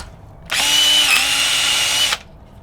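A cordless drill driving a firewood auger into a small piece of wood whines loudly and steadily for about a second and a half, a brief dip in pitch midway as it bites and splits, then stops.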